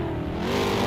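Race car engines revving during a racing video game event on the Goteborg road course, a loud, close, rising engine whine with layered harmonics over one second.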